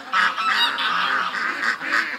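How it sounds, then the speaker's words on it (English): Domestic ducks kept near a backyard swamp area with kiddie pools call in a dense flock, overlapping loud honking quacks running continuously, close by with no talk. "Most of the ducks are on this side."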